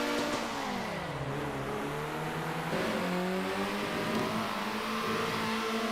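A race car engine revs continuously in the racing video game Circuit Superstars, its whining pitch dipping and climbing through gear changes and corners, loud and steady without a break and with no voices.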